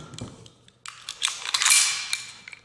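A single-action pistol fires a blank: one sharp, loud report with a bright burst of noise, set among a few nearby mechanical clicks from handling the gun.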